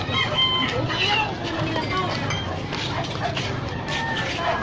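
Chickens and a rooster call near a trash-strewn riverbank in a crowded neighborhood, clucks and crowing mixed into background bustle with indistinct voices nearby.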